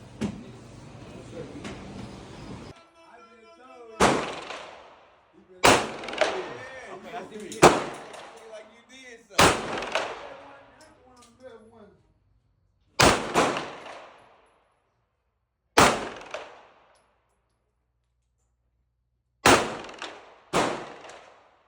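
Gunfire at an outdoor shooting range during a family training day: loud, sharp single shots and short rapid bursts, spaced irregularly with silent gaps between, close and dominant.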